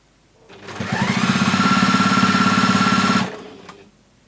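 A sewing machine top stitches along the edge of a fabric gift bag in one loud, close burst of about two and a half seconds, its fast rhythmic needle clatter rising and stopping abruptly.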